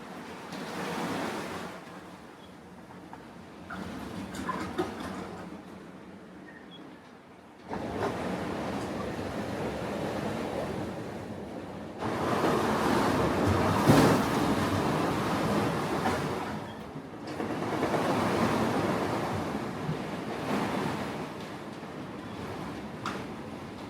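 Rough ocean waves and strong wind roar around a sailboat during a knockdown, a loud continuous wash that surges and eases in long swells with brief quieter lulls, no voices.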